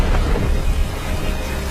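Steady rain with low rumbling thunder in the film Thor, a loud, continuous broadband wash with no voices.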